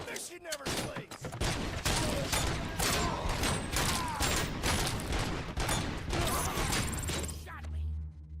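Rapid, sustained gunfire in RoboCop: Rogue City, dense repeated shots with mechanical clanks and crashes for most of the stretch, loud and continuous before cutting off near the end.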